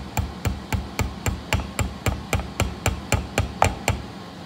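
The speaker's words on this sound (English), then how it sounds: "Start tapping it down." Light hammer taps drive a small roll pin into a lathe pinion gear, about fifteen evenly spaced sharp metallic strikes, close and steady with no talk.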